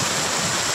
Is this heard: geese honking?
no